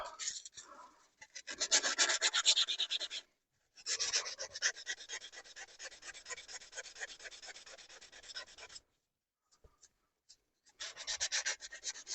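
Sandpaper rubbed by hand over a wooden hammer handle: close, dry rasping strokes in quick back-and-forth bursts, separated by short pauses, with no talking.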